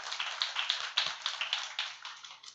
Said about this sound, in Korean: 격려의 박수를 드리길 원합니다